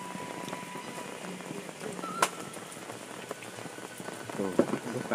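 Steady rain falling in a village, a continuous close hiss of drops hitting surfaces with a few louder splats, while people talk faintly in the background.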